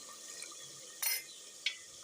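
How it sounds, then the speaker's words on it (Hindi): Water splashes into a pan of chicken karahi masala, a quick hissing pour followed by a smaller splash, over a faint background of steady sizzling. "इस स्टेज पे आप लोग डाल सकते हो पानी, ताकि मसाला ना जले"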